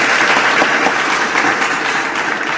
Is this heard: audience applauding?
yes